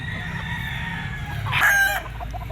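A gamefowl rooster, offspring of a Black Spartan, crows once nearby with a bright drawn-out call over steady background noise at a pet market.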